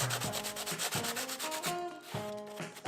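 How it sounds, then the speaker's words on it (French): Hardened plaster-textured canvas being sanded by hand, a close, loud, rhythmic back-and-forth rasp of about two strokes per second, alone with no talking. "Une fois que la toile était bien durcie, j'ai poncé un maximum d'aspérité."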